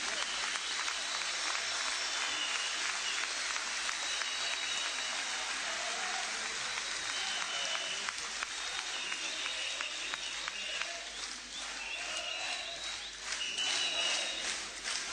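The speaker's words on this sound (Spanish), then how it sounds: "Un fuerte aplauso para los compañeros senadores" Sustained applause from a large crowd at an Argentine political rally in Moreno, a dense continuous roar of clapping that holds steady for the whole stretch, loud and close, with cheering mixed in.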